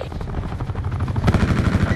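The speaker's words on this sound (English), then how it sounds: "Attack helicopter, my location." An attack helicopter in the video game Black Ops 4 strafing: dense, rapid automatic gunfire with a pulsing rotor-like thump, loud and continuous, growing heavier partway through.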